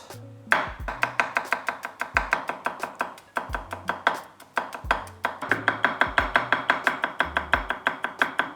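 A knife chops scallion whites rapidly and rhythmically on a cutting board, dozens of crisp, close taps in quick bursts with brief pauses between runs.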